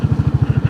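Motorbike engine idling and puttering through a rain-soaked landslide on a mountain road in Northeast India, a steady rapid low thump with regular pulses, close and fairly loud with no talk.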